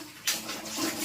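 Tap water runs and splashes steadily as a mouth is rinsed after brushing teeth, close and continuous for about a second, with no talk.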